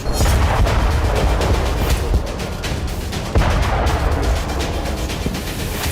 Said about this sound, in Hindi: जबरदस्त धमाके का ये वीडियो लुहांस्क का है, जहां यूक्रेन ने एक रूसी हथियार डिपो को तबाह कर दिया